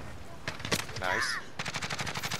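In the video game Modern Warfare, an FAL rifle fires in quick bursts of loud, close, rapid shots, with an electronic game sound in between and a longer run of steady shots at the end.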